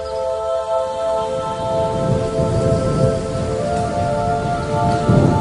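A heavy evening downpour of rain and wind makes a dense, steady roar with low rumbling gusts. Sustained tones sit over it, and the rain continues unbroken throughout.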